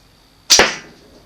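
A Spectre survival bow with a simple wire rest looses a heavy Heritage 350 arrow, giving one sharp, loud release snap with a quick whooshing tail that fades within half a second, with no talk.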